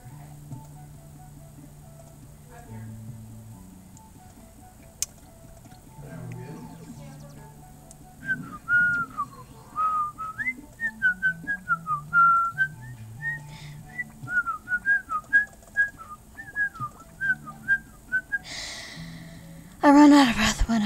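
A person whistles a wandering, warbling melody up close, each phrase broken by short pauses, with a burst of breathy noise at the very end.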